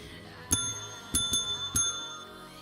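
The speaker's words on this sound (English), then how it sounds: "I'm gonna ring the bell myself here." A stream alert bell, rung by hand for a test, chimes four times in bright metallic strikes with a steady electronic hum underneath.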